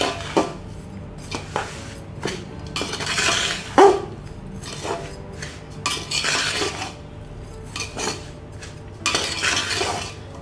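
A spoon scrapes and clinks in a bowl as mango pickle pieces are mixed with garlic and spices, with steady stirring and occasional louder knocks, close up and without talking.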